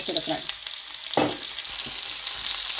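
Roasted gram dal sautéing in a pan for a garlic fish gravy gives a soft, continuous sizzle and frying crackle. A single utensil clink rings out midway.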